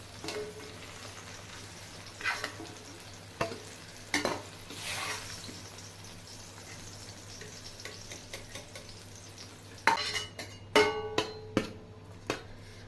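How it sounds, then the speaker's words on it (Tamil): Fried capsicum and tomato scooped from a pan onto a plate, quiet scraping and occasional metallic clinks of a spoon against the pan, with a denser burst of scraping and tapping near the end. "இப்போ நான் இதை எல்லாமே எடுத்து பிளேட்டுக்கு மாற்றிக்கிறேன்"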